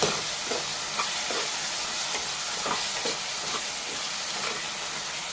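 Tomatoes for a brinjal curry simmer and sizzle in a pan while a spoon stirs them, soft scraping strokes recurring every half second or so over a constant hiss.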